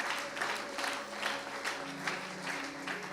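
A church congregation breaks into warm applause acclaiming the word of the Lord, steady clapping from many hands filling the hall for a few seconds at moderate volume.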